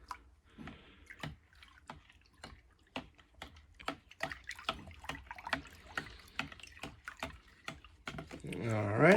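Washing soda is stirred into a container of water, producing small sporadic splashes and clinks in an uneven rhythm, close and fairly quiet, with a louder pouring swell at the end.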